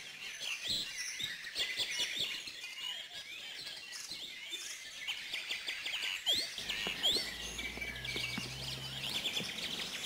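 Many small garden birds chirp and tweet in quick, overlapping bursts, fairly faint and steady throughout, with a low hum entering toward the end.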